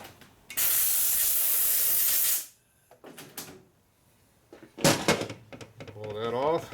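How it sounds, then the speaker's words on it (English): Compressed air blast blowing grease off a 4-speed Harley-Davidson panhead transmission part during a rebuild, a loud close hiss lasting about two seconds, followed by clattering handling noises and a voice talking. "I'm going to blow and wipe off the grease."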